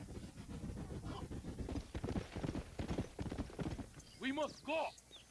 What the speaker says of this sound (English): I just like riding my horse everywhere